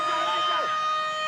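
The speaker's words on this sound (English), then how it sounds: "Still alive here as the siren sounds." A rugby league match siren wails steadily over a noisy stadium crowd, sustained and fairly loud throughout.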